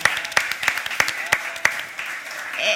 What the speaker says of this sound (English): Can we give the startups another round of applause?